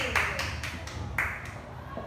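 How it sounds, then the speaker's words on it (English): Classmates clap for themselves during a demo teaching lesson, producing a few loose, uneven bursts of hand claps close by rather than sustained applause. "give yourselves a round of applause"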